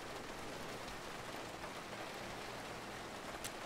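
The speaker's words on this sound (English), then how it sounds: "It is raining." Rain in the road-trip video game Road 96 gives a soft, even wash of hiss that stays steady from start to end, with no speech.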